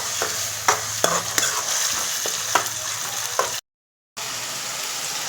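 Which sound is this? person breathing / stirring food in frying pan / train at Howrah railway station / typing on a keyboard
stirring food in frying pan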